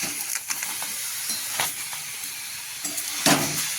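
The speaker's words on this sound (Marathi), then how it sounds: "याला छान आपण मंद गॅसवर थोडं परतणार आहोत." Boiled vegetables for aviyal are stirred in a pan over low heat without oil or ghee, giving a soft continuous sizzle broken by repeated scraping and clatter from the stirring.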